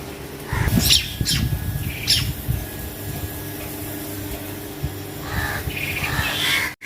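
Several birds chirp and tweet in short bursts nearby over a low background hum, with a few rustling sounds between calls.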